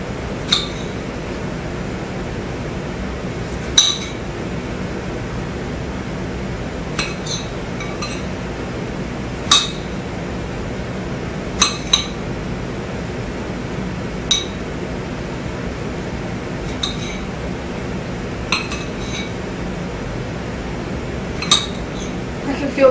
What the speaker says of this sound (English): Put them right into your saucepan.